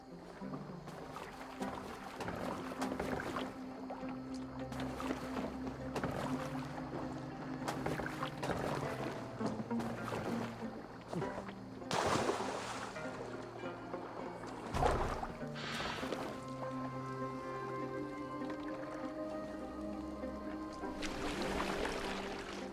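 Oars splash and creak as a rowed longboat glides across the water in Assassin's Creed Valhalla, quiet rhythmic strokes set against soft wind, with a few louder splashes and knocks.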